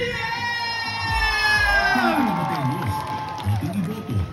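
Rally crowd cheering and shouting in welcome of a returning governor, loud whoops and voices swelling under an amplified announcer's voice and a sustained musical tone.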